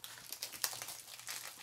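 Thin plastic wrapping peeled off a Shopkins toy package, a close, soft crinkling and crackling over a couple of seconds with one sharper crackle.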